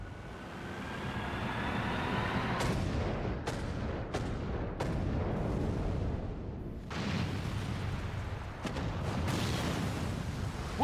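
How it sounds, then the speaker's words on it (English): Long-range artillery cannon fire in the Limbus Company video game: a heavy, continuous rumbling roar broken by a rapid series of sharp, loud blasts, about eight or nine in close succession, with no speech. "Long-range artillery."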